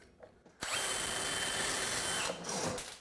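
A power drill drives a screw into a hardwood butcher block countertop, giving one sustained, close whirring burst of a couple of seconds after a short quiet lead-in, then a brief tail of spinning.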